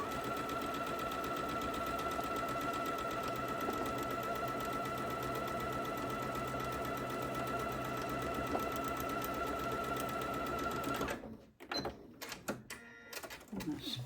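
A sewing machine stitches a quilt block of Japanese fabric in a continuous steady whir, then cuts off near the end, leaving scattered light handling noises.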